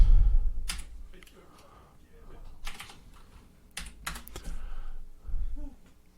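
Scattered bursts of computer keyboard typing, close and moderately loud, with pauses between short runs of keystrokes and faint background noise.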